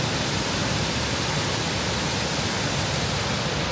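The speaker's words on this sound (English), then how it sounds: "And that's the waterfall." A rainforest waterfall at Paronella Park gives off a continuous, even roar of falling water, steady and unbroken with no voices.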